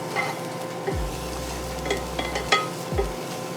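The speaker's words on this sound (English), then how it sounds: "I got shallots and green onion. We're gonna go ahead and toss those in. We're gonna saute these for just a couple of minutes." Shallots and green onion sauté in a preheated pan, giving a soft, steady sizzle with occasional stirring scrapes and light clinks of a utensil against the pan.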